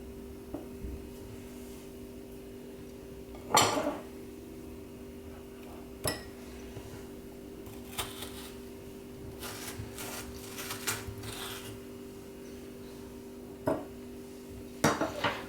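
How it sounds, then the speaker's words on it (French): A metal spoon turns in a watermelon to scoop out balls, giving occasional soft scrapes and a few sharper clinks against the dish, close and spaced apart over a low steady hum. "Il n'y a plus qu'à tourner en fait la cuillère dans la pastèque pour obtenir la boule."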